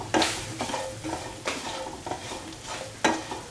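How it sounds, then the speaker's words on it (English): A spoon stirs a mixture seasoned with chili powder and salt in a frying pan. Repeated scraping strokes sound close by over a steady, soft sizzle. "Mix thoroughly."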